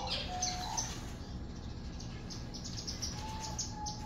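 Birds in an aviary holding diamond doves and royal pigeons give thin, scattered chirps and short calls over a steady insect-like background hum, fairly faint and without voices.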